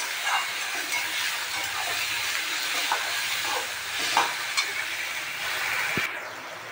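Onions with a pinch of salt fry in a pan for a mushroom dish. A steady broadband hiss and sizzle runs throughout, with occasional scraping clicks as they are stirred, and a brief knock near the end.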